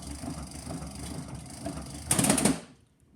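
A phonograph motor runs too fast with its speed governor off, giving a steady mechanical whir that swells into a louder rattling burst before cutting out.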